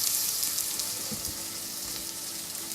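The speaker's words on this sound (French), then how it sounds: "On fait blondir l'échalote." Shallots sizzling in a sauté pan for sauce aurore, producing a steady, fairly soft frying hiss throughout with a faint low clatter or two and no speech.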